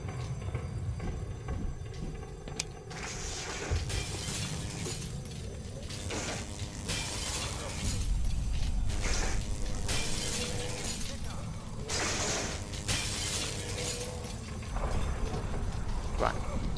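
Repeated glass smashing inside the video game Black Mesa, sharp crashing bursts spread across the stretch over a steady dense game soundscape, fairly loud, with a voice talking now and then.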